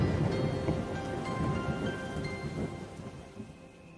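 Steady, heavy rain pours down on a rainy day, a dense, continuous hiss with low rumbles of thunder rolling underneath and no voices.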